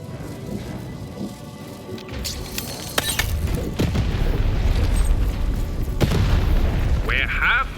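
In the video game Lost in Random, heavy booms and crashing impacts land near and loud, with a sharp blast and debris clatter following. Speech is heard over them.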